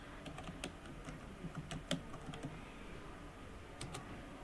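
Someone types text in MS Word on a computer keyboard. Quiet, close key clicks come in irregular bursts, with a short pause in the middle.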